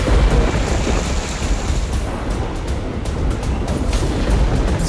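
Heavy monsoon rain in Karnataka pours in a dense, steady roar with low rumbling thunder beneath, loud and continuous throughout with no voices.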